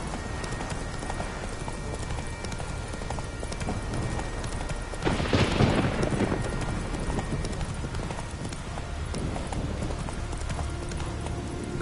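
Roach, a horse in The Witcher 3, gallops in a steady rapid clip-clop of hooves over continuous ambient noise, with a louder rush of sound partway through.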